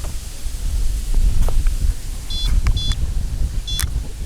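Three short electronic beeps from a fishing bite alarm sound in quick succession over loud, gusty wind noise outdoors on a riverbank.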